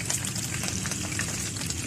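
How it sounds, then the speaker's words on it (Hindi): Pieces of Lahori masala fish frying in hot oil, a steady soft sizzle and bubbling hiss heard alone at a low, even level. "इसी तरह बाकी पीसेस भी हम फ्राई कर लेंगे।"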